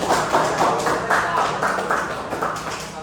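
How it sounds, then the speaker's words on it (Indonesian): A classroom audience claps for a presenting student group, a dense, steady patter of many hands lasting throughout, fairly close and without talk. "Mari kita beri aplaus kelompok 1."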